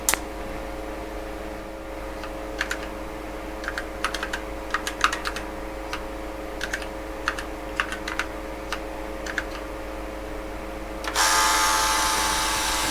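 Rapid keystrokes clatter on an HP 9845B computer keyboard under repair, in irregular bursts over a low electrical hum, ending in a burst of loud hiss.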